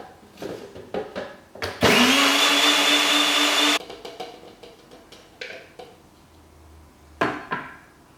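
A blender briefly mixes drink ingredients in a kitchen: a loud, close roaring whir lasting about two seconds, surrounded by light clinks and handling knocks.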